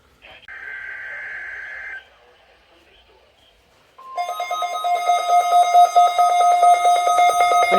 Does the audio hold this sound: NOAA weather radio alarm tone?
yes